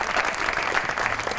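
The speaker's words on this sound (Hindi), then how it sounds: "इस ऑडियंस के लिए भी बहुत सी ताली होनी चाहिए।" A studio audience applauding, dense sustained clapping from a crowd at a steady level, close and continuous with no talk over it.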